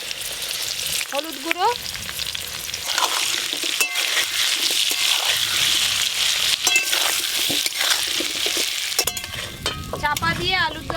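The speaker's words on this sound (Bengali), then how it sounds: "চাপা দিয়ে আলুর দমের আলুগুলো বেশ ভালো করে ভাজবো।" Potatoes for aloo dum frying and sizzling in hot mustard oil in a pan, a steady close crackle with stirring clinks and scrapes, while someone briefly speaks over it.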